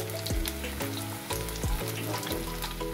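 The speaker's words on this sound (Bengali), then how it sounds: "এগুলো 3 থেকে 4 মিনিট একদম হাই ফ্লেমে ভেজে নিতে হবে।" Semolina-coated spring onion pakoras frying in hot oil on a high flame, with a dense, continuous sizzle and bubbling and a few soft knocks from the pan or utensil.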